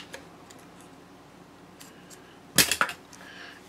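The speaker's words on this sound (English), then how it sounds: "I want to trim these ends off, but I don't want to trim it even with the zipper tape yet" Scissors trimming the ends of zipper tape while sewing a card clutch, a couple of sharp close snips in quick succession after a quiet stretch, with a faint click at the very end.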